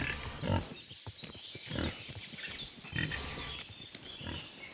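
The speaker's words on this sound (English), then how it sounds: "Hey, Piggy." Pig grunting in the medieval game Kingdom Come: Deliverance, a series of low, rough snorts and grunts repeating irregularly at close range, with no talk over them.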